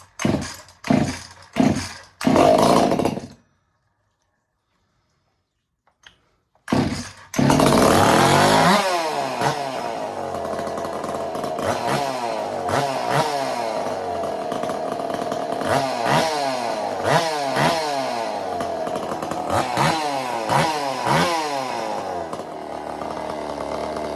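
A Husqvarna 50 chainsaw, tuned so the throttle is snappier, gives a few short revs and then cuts out. After a pause it starts again and runs loud and close with a steady high whine, rising and falling through repeated throttle blips.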